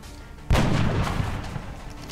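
A single heavy gunfire blast from the turn-based video game XCOM: Enemy Within, Long War mod, bursts over steady game ambience and rumbles on briefly afterward. No one speaks.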